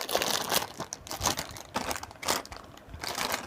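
A bag of Nice Chipsy spicy cheese crisps is crinkled and torn open up close, with bursts of crackling plastic and rustling in irregular waves and no voices.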